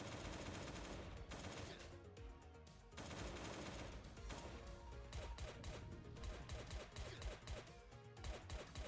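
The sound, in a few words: AK rifle gunfire in video game Last Day on Earth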